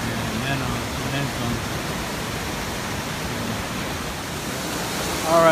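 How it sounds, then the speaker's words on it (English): A hard-flowing mountain river in Mineral King, Sequoia National Park, produces a loud, steady, broadband rush that fills the whole stretch, with a faint voice briefly audible under the roar near the start. "pretty loud here because the river's flowing so damn hard"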